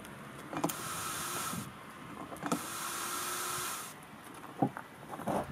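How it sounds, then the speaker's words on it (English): Rear camera cleaning wiper on a BMW iX electric SUV, a motorised whir that runs steadily for a couple of seconds, pauses, then repeats, with soft clicks and a faint hiss, close by with no talk. "that rear wiping function looked even more spectacular"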